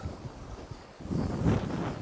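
Low, rumbling wind buffeting outdoors on a summit climb on Çiftit Island near İzmir, steady at first then gusting louder in the second half, with no voices.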